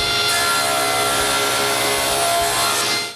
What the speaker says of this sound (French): J'utilise mon banc de scie